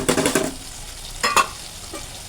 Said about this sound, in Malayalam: എന്നിട്ട് നമുക്ക് ഇതിങ്ങനെ ഒന്ന് ചിക്കിയെടുക്കാം.